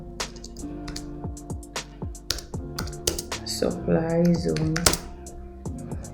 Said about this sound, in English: Let me just type this here for you to get it all.